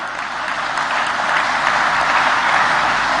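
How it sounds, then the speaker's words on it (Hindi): Steady applause from a large audience at a global investor summit, a continuous wash of clapping holding at an even, loud level throughout. "अरे धन वर्षा हो रही है तो ताली वर्षा भी हो जाए"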